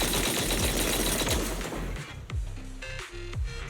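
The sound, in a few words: heavy cannon fire in a video game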